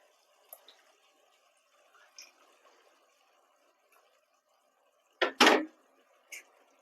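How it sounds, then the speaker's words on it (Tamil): Milk poured into a pan of thickened baby potato kurma, a brief splashing pour near the end after quiet stretches with a few faint kitchen clinks. "இந்த ஸ்டேஜில் வந்து நம்ம பால் சேர்த்திக்கலாம்."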